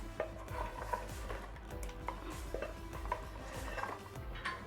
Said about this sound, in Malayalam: ഇങ്ങനെ സൈഡ് കൂട്ടി തന്നെ ഇളക്കണം.